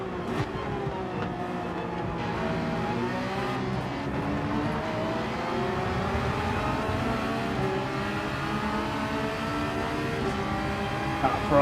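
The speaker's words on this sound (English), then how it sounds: "That Ferrari's got great acceleration up to about this speed." Ferrari race car in a racing video game at Suzuka, engine loud and close, pitch rising steadily through the gears in a long continuous acceleration with no talking over it.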